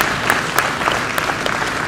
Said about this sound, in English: give the ring men and the staff here at Wisconsin Holstein a huge round of applause